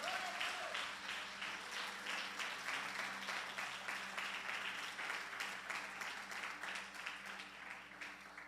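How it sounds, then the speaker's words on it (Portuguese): A church congregation applauding, a faint but steady patter of many hands clapping at a distance, continuing evenly without voices. "Pode aplaudir o Senhor."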